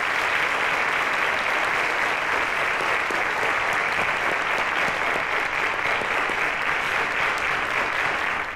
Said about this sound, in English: Ladies and gentlemen, a round of applause to them.